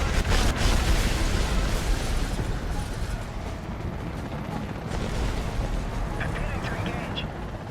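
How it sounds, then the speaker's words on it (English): An AH-64 Apache helicopter fires Hydra rockets in a video game, loud launches with booming blasts and rushing bursts, strongest at the start, over a steady roar of machinery. "the one you're seeing me use right now is the Hydra rocket"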